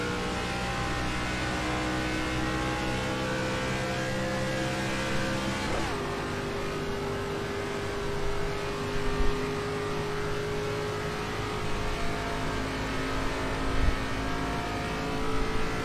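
A race car engine drones steadily and loudly, with a sharp gear shift partway through that drops the pitch before it climbs again, and the note holds on without let-up.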